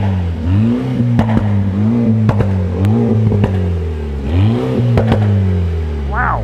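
A car engine revs hard with its exhaust valve open, giving repeated loud rising and falling revs with sharp pops and crackles between them, close to the listener, while people talk over it.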